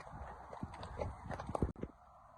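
A pony walks on hard ground, hooves clip-clopping in a loose uneven rhythm of several close, soft knocks, fairly quiet with light background noise.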